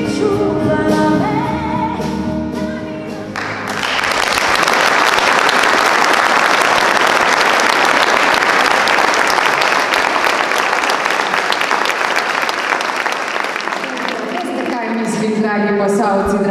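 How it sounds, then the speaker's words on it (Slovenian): Concert audience at a live show in Brežice gives sustained, loud applause that swells into a dense roar of clapping for over ten seconds, with music fading out before it and returning as it dies down. "da čist premalo glasno ploskate nocoj"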